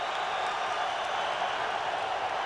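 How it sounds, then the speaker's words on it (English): A loud football stadium crowd roars steadily throughout, a dense, unbroken wash of cheering and applause. "This crowd is as loud as I've ever seen"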